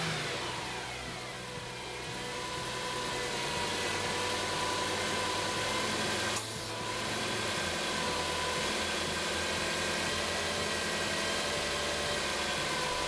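A car engine runs at a steady idle for the whole stretch, with a low, even hum and a brief click midway, heard alone with no talking.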